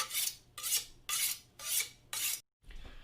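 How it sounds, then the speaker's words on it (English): A large meat cutter's knife being sharpened: five long, even rasping strokes in a steady rhythm, then a brief pause and a softer final scrape, close up with no talking. "This is your big bad boy, your meat cutter's knife. We're going to sharpen it up."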